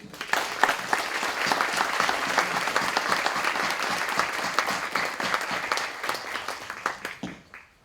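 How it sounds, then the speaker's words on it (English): Audience applause at a research data management forum presentation, a dense sustained clapping from a full room lasting several seconds before tapering off at the end, with no talk over it. "Another round of applause, please, to John."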